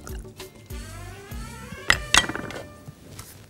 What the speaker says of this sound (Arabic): وهحط شويه خل، ربع كوبايه كده